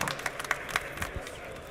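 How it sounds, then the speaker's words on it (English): Forum audience at a hydrogen and fuel cell exhibition giving a short round of applause, scattered distinct claps over a background of talking voices. "A warm round of applause"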